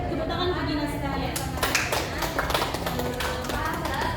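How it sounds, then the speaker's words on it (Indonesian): A group in a classroom practice session claps for Gina, a dense patter of hand claps filling the whole stretch, with a voice speaking briefly beneath it. "Tepuk tangan untuk Gina sekalian."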